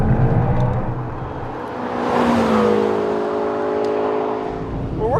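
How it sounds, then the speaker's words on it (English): McLaren 650S Spider supercar, 641 horsepower, with turbos spooling up under throttle: a steady loud engine drone with rising whistling tones as the car accelerates, heard from inside without talk. "I love that you can hear the turbos spool up too."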